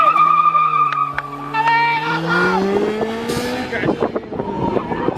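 Car drifting at a car show, its engine revving up in rising whines before tires break into loud squealing and skidding, with people talking nearby.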